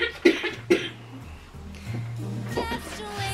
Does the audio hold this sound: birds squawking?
no